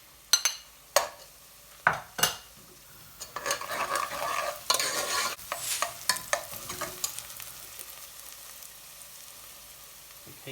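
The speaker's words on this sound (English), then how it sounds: "it's been a further couple of minutes of me cooking the onion with the ginger and garlic" Onion, ginger and garlic fry in a pan for a home-style chicken tikka aloo bhuna, with a steady low sizzle under sharp, intermittent scrapes and knocks of a spoon stirring against the pan. No one speaks.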